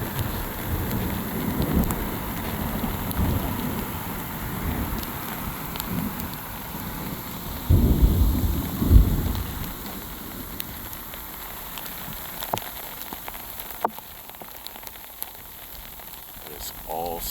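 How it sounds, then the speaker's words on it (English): Sleet and rain fall steadily during a thunderstorm over an ice-covered road, giving a constant hiss, and a deep roll of thunder rumbles up around the middle before the weather settles back to a softer patter. "It's all sleet."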